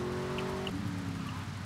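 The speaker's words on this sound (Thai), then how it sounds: "ฝนตกนะ" Rain pours steadily in GTA Vice City, forming a loud, constant hiss with a car engine hum and a brief tone underneath, and no talking.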